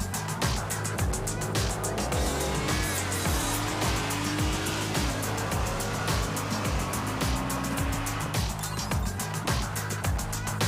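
A 2023 Honda Pilot TrailSport SUV accelerates with a steady engine drone heard from inside the cabin, with rising tones and rhythmic road thumps underneath.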